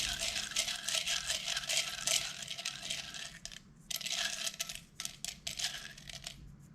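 Cardboard counter chits for a solo Kharkov board game are drawn and handled, a soft, continuous rustling and clattering with brief pauses, faint and close by, with no talking.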